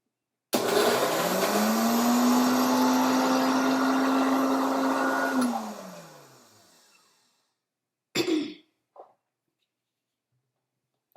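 A Clean Blend countertop blender whirs up loudly, holds a steady high-pitched motor whine for about five seconds, then winds down, followed by a few clunks.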